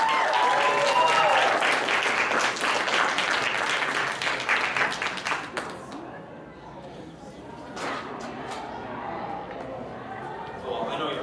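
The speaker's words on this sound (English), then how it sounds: "so let's give a round of applause again" A convention audience at an anime quiz-show panel gives a round of applause, with dense, loud clapping fading after about six seconds into scattered claps, murmuring and a voice.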